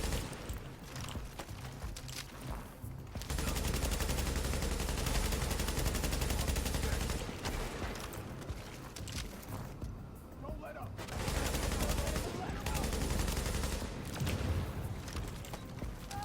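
Gunfire in the video game The Division: repeated bursts of rapid shots come in loud stretches separated by quieter gaps, with someone talking during the action.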